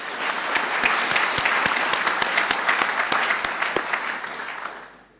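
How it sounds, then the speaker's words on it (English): Audience at a university graduation ceremony claps for a graduate, a steady hall-wide applause with a few sharp nearby claps standing out, fading away at the end. "Let's give Davis a hand of applause as well."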